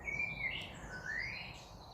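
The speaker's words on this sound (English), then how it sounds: "I've been working by the birdsong" Near a campsite at dawn, a small bird in the tree overhead sings a few clear, sliding whistled notes. The song is moderately close and stands alone against quiet background noise.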